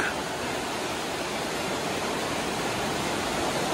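River water rushes in a steady, dense, broadband wash, loud and unbroken throughout, with no distinct splashes or voices standing out.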